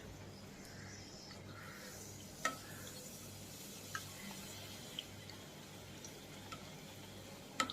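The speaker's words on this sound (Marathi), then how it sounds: "तर आपण एक एक चिरोटे आता तळून घेऊयात" Steady, gentle sizzling and bubbling of chirote pastries frying in hot oil over low heat, with a few soft clinks and drips scattered throughout.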